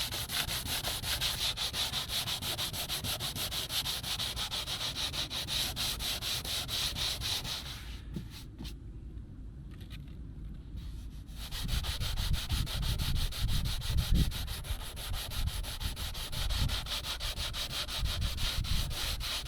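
Steady rhythmic hand sanding on a plastic Citroen Xsara Picasso car bumper, close and continuous with fast back-and-forth rasping strokes, pausing briefly midway before resuming.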